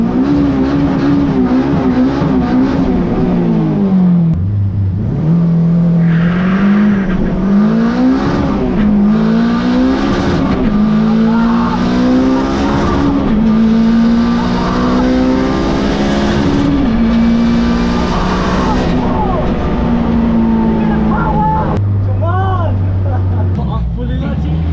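Honda Civic EK coupe with a 450 bhp K20 engine on a quarter mile run, its engine loud and close as it rises through the revs across several gear changes, with a brief dip between pulls.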